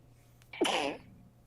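A single sneeze bursts out once at a tabletop game session, close and moderately loud, with a faint hum underneath and quiet before and after.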